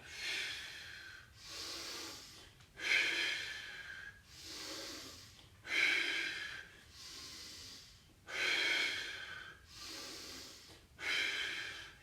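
Slow, deep breathing during a total-body mobility workout, each breath in and out clearly audible and close, in a steady rhythm of about eight or nine breaths with short pauses between them, and no talking.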